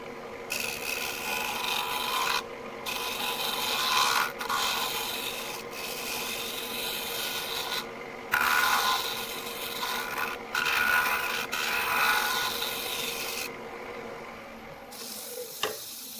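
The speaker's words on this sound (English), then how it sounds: "I'm just trying some scraping, see how that goes." A scraper rasps continuously across a very thin wooden turned bowl spinning on a lathe, in steady passes broken by brief pauses, loud and close.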